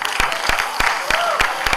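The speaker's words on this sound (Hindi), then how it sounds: "एक बार जोरदार तालियां हो जाएं" Audience at a fashion show award ceremony claps with loud, sharp, spaced hand claps standing out over a crowd murmur and a voice.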